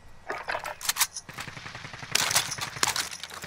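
Gunfire in Call of Duty: Modern Warfare, sharp scattered shots and short rapid bursts at varying distances, a dense rattling volley near the end, with faint footsteps in between.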